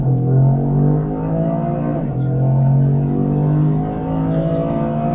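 A 2025 Toyota GR Corolla with automatic transmission launching under launch control, its engine droning loudly and steadily as it pulls hard, with a brief dip around a shift.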